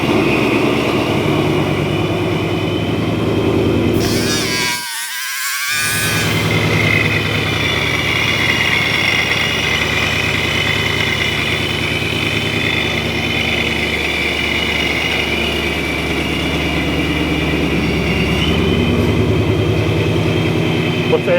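The engine of a supercharged 2020 Mustang GT, tuned to 750 hp, runs with a loud, steady mechanical drone and a high whine on top. The sound holds almost constant throughout, with one brief dip near the start.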